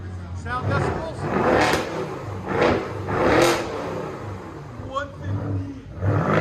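Nearby revving from a 2015 BMW 650i 4.4L V8 with its muffler removed, several quick throttle stabs rising and settling into a grumbling idle, with brief voices talking between the revs.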